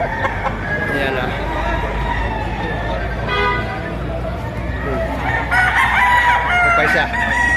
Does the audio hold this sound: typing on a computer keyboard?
no